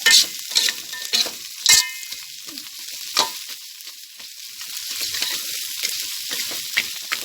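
Chopped field rat and pork cracklings stir-fry in a hot pan, with a steady sizzle under repeated sharp scrapes and clacks of a utensil against the pan, close and fairly loud.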